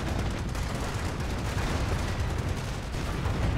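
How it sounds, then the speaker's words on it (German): Artillery fire in the strategy game Company of Heroes sounds as a dense, continuous barrage of low booms and crackling blasts, loud and unbroken, with no talk. "und die nächste Artillerie"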